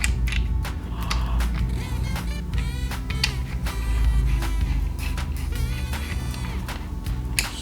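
Plastic parts of a toy crane truck being screwed together, with steady close ratcheting and creaking clicks repeating throughout over a busy mechanical rattle.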